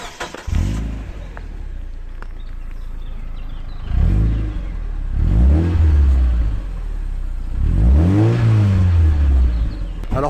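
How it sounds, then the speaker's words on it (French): A Mazda MX-5 NB four-cylinder with an aftermarket exhaust revs three times, each blip rising and falling in pitch with a raspy, throaty note. The engine idles between revs, close and loud, with no talking. "quand vous mettez un peu de budget dans une petite ligne d'échappement qui chante bien"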